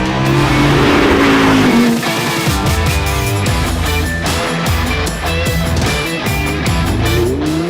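A Lamborghini Huracán LP 580-2 on a racetrack, its engine snarling loud and close, dropping briefly and then climbing through a string of rapid rev rises and gear changes, with no voices over it.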